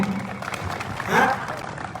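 A crowd at a Navjot Sidhu political rally claps, a short burst of applause that swells briefly and fades, heard under a speaker's voice.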